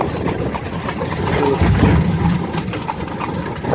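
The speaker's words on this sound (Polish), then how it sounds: "biedny koń" Horse hooves clop on a road near a gas station in Cuba, a few faint, irregular knocks under a low rumbling engine hum, moderately close, with no talk.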